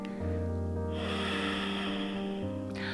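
A slow, deep breath is drawn in and released during a yoga exercise, with a long, airy, close-up exhale over steady, soft background music.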